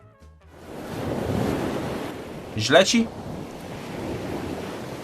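Ocean waves played from a 4K video wash and hiss in a steady broad roar, and a brief voice speaks over them midway.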